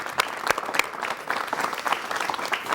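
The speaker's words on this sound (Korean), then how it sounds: "여러분 축하의 박수를 부탁드립니다." Studio audience at a 1988 KBS television talk show claps together in a dense, even burst that holds steady at moderate loudness, with no one talking over it.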